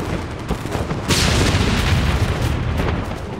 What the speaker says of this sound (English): The German guns open fire.